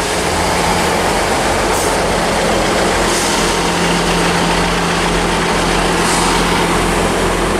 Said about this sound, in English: Coming through at the same time, we've also got a cross-country service to Bristol Temple Meads from Paignton